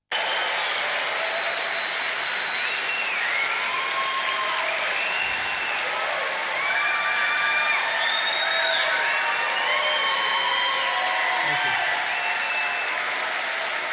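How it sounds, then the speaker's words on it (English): Large political rally crowd applauding and cheering steadily at a Trump GOP event, a dense roar of clapping with whistles and shouts held loud and continuous throughout. "The dump talk re-energized the crowd more than anything else."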